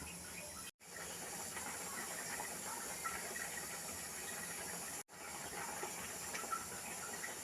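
Water poured into a pan of cauliflower curry with egg, a steady hissing, sizzling wash that runs continuously at low level, with two brief dropouts.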